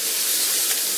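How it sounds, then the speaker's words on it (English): A short, steady hiss of cooking spray from an aerosol can coats a cast iron pan, lasting about a second with no pauses. "just a little cooking spray,"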